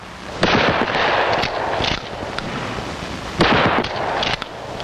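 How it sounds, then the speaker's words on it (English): Revolver fired from the hip at close range in a 1970s FBI training film: two loud, sharp reports with rolling echoing tails, spaced a few seconds apart, with no talking. "Hip firing is used at close range,"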